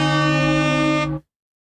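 A single long, loud air horn blast, a steady tonal blare held for over a second, then cut off abruptly into silence.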